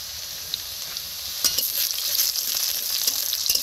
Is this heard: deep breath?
no